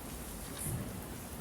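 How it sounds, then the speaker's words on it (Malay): Heavy rain from a storm outside pours as a steady, even wash of broadband noise through the whole stretch, with a slightly louder surge in the middle and no voices over it. "Ribut ke kat luar tu?"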